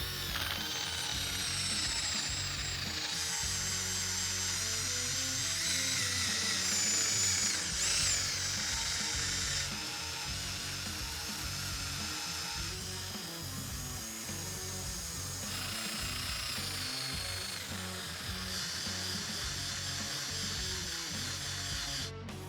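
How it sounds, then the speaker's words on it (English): A power drill with an eraser wheel whirs steadily with an abrasive rubbing grind as the wheel scrubs tape residue off a Ford Mustang's body, the pitch shifting slightly as pressure changes. "I'm going to use an eraser wheel with a drill"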